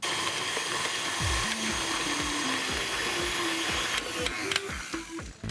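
A stand mixer fitted with a paddle attachment beats carrot sweet potato cake batter, giving a steady rhythmic mechanical whir with repeated clunking beats, moderately loud and continuous.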